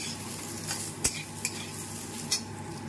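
Curry cooks in a pan in a home kitchen, a soft steady sizzle under a few sharp clinks and scrapes of a spoon stirring against the metal.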